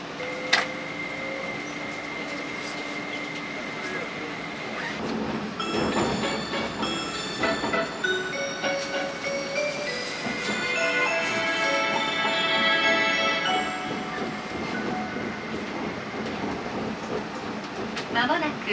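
Spacia X limited express train running on the approach to Asakusa terminus, with steady rolling rumble, rhythmic wheel clatter and rising mechanical whine building through the middle, heard from inside the car throughout.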